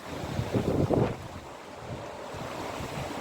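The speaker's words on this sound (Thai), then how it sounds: "ลมแรงมาก" Strong wind buffets the microphone at a lake shore in Ebensee, Austria, with heavy rumbling gusts that peak early and then settle into a steady roar, no voices.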